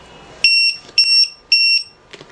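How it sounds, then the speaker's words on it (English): A 3-in-1 RC alarm buzzer sounds its signal-loss alarm with three loud, shrill beeps in a steady pulsing rhythm, each lasting about half a second, followed by a fainter clatter. "First, we will test the signal loss function without a mobile throttle sticker."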